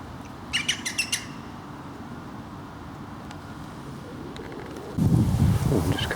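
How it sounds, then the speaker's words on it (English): Near the River Stour in Dorset, a bird gives a short burst of bright chirps early on, then a few faint calls, over steady wind noise that gusts louder toward the end; nobody speaks. "A lovely bird."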